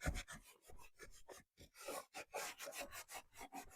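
Clear wax being rubbed by hand onto milk-painted thrift store furniture, a series of quick rhythmic scrubbing strokes with brief pauses, close and fairly quiet, with no talking.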